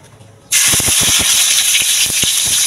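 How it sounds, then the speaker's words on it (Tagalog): Tomatoes hitting a hot pan for sautéing, a sudden loud hissing sizzle bursting in after a quiet moment, then holding steady with crackles and spatula scrapes, close up. "ito na magigisa na ako, guys. Iuunahin ko yung aking kamatis."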